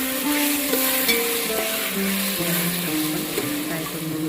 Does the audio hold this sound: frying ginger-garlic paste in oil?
yes